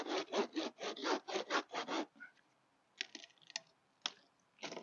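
Hand saw cutting through a palm tree during pruning, a steady run of about nine rhythmic rasping strokes, close and loud, followed by quieter scattered scrapes, knocks and clicks as the cut finishes.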